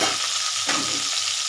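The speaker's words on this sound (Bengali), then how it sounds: "এই চালটাকে একটু ভেজে দিচ্ছি" Soaked Gobindobhog rice frying in oil, a steady close sizzle and hiss with a brief stirring scrape partway through, no voices.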